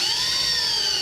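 A cordless drill with a freshly sharpened bit bores steadily, a continuous high whine held close and loud with no talk for about a second.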